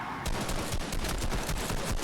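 Rapid bursts of automatic and single-shot gunfire from a Fortnite match, a dense, loud fusillade that starts abruptly and keeps crackling without a break.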